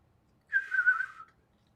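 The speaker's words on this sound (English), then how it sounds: "I can whistle." A single person whistles one short, slightly wavering note for under a second, clear and fairly close against quiet background.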